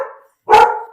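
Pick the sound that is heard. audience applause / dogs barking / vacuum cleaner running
dogs barking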